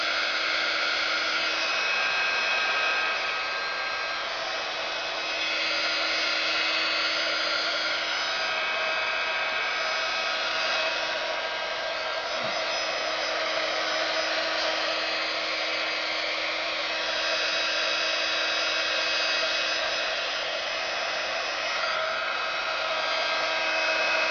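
A heat gun dries crackle finish paint on a shabby chic wooden door hanger, giving a steady, loud, continuous blowing whine that lasts the whole time with almost no change.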